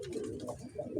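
Caged pigeons cooing softly in a short, low, throaty burst, close by and fairly quiet, with no talking.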